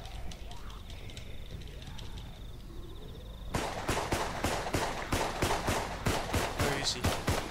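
Rapid gunfire from a computer-controlled bot in the zombie shooter Contagion erupts partway through, a steady string of sharp shots that follows quieter game ambience with talk underneath.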